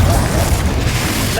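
Confringo explosive spell cast in the video game Hogwarts Legacy, a loud, dense blast with a deep rumbling body that fills the whole moment without fading, over busy game sound.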